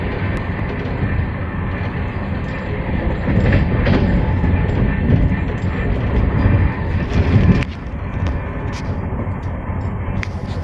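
A long passenger train running on rails through open countryside, a loud continuous rumble and rattle of many coaches with a rhythmic clatter of wheels, and a sudden drop in level partway through.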